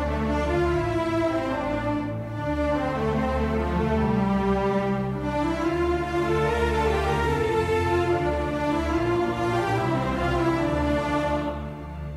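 Orchestral string section playing a sustained cinematic adventure action passage, dense layered chords swelling and shifting steadily, loud and continuous with no voices.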